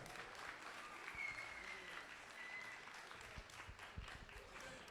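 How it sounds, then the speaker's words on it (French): A crowd applauds the winning team at the FIFA 23 esports playoff final, steady clapping heard faintly and at a distance, with a few louder claps near the end. "faites un tonnerre d'applaudissements pour les TBK eSport"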